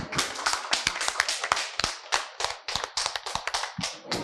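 A group of people clap for an 80-year-old grandmother singer, a close, loud run of sharp, slightly uneven handclaps keeping a quick steady rhythm for several seconds.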